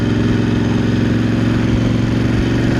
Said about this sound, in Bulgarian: Двигателя се работи нормално